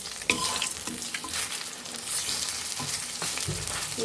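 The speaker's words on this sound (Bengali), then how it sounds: "একে একে আমরা সবকটি বড়া এভাবে ভেজে নিব।" Squash fritters (bora) fry in hot oil, giving a dense, close sizzle with scattered crackles and occasional scraping knocks as they are turned, no voices.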